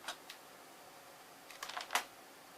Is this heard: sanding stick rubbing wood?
no